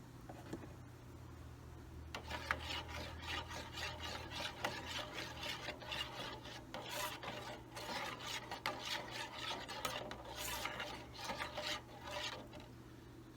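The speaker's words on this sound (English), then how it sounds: "we're going to give that a little stir" A spoon stirs a wing sauce mixture made with Frank's Red Hot sauce, giving repeated soft scraping and rubbing strokes close up, quiet and steady with no talk.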